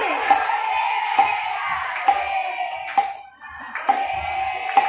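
A group claps along in steady rhythmic beats during Hare Krishna kirtan singing, the claps punctuating a sustained devotional vocal melody at a regular pace.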